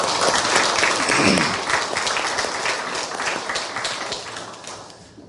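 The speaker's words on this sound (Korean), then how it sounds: "우리 감사의 박수 하겠습니다" Audience applause for a church choir and orchestra at a university chapel service, a dense, loud wash of clapping that swells early and then gradually fades over about five seconds.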